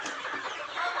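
Sonali chickens, about 45 to 50 days old, cluck steadily as a close flock on a poultry farm in Sultanpur, Uttar Pradesh, a dense, continuous chatter with no voices over it.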